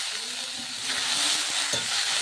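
Potatoes frying in a pan with turmeric and salt, a soft continuous sizzle with light stirring taps and scrapes, fairly quiet and close.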